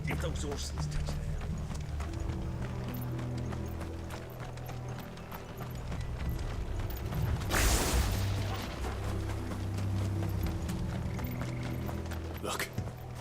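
Horse hooves clip-clop across stone in Final Fantasy XVI, a steady trotting rhythm under game music and a brief loud burst, with voices speaking over part of it.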